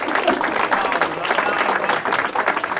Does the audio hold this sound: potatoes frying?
no